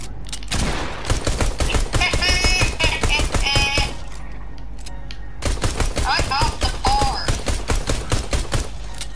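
Rapid bursts of pistol gunfire in Fortnite during a zombie survival mode, sharp cracking shots in quick clusters with a brief lull midway, mixed with chatter and game effects.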